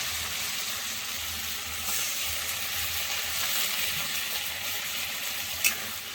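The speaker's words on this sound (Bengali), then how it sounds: "এবার আমি বাটি ধোয়া জল দিয়ে দেবো।" Water poured into a pan of frying ridge gourd and fish in an oily spicy curry, a steady broad sizzling hiss that holds throughout, with one small clink near the end.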